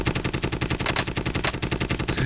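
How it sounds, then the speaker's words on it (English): A light machine gun in a video game fires nonstop in a steady, rapid rhythm, each shot evenly spaced, loud and close with no pauses. "A light machine gun."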